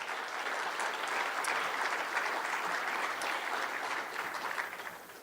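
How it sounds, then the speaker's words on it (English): Sustained applause from an election night crowd in Indiana, a continuous wash of clapping heard from a little distance that holds steady before thinning slightly at the end. "I ask that all of you give them a round of applause."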